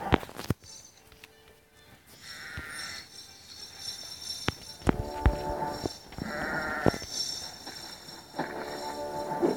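Sheep bleating in the tower-defense video game Kingdom Rush, several short nasal bleats repeating at intervals over busy game sound effects and clicks, with no talk.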